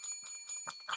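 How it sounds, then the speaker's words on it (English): A bell sound effect rings out in bright, sustained high tones that hold steady for about a second, with fainter lower murmurs pulsing underneath. "we need the bell for that, for this one"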